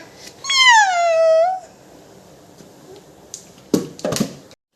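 A child imitates a cat with one long, clear meow, then after a pause comes a few short thumps and bumps nearby.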